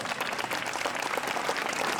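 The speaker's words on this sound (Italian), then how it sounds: "Un altro applauso, viva l'amore" Audience at a lecture on Sardinia keeps up a sustained, even round of applause, a dense patter of many hands clapping at moderate volume with no voices over it.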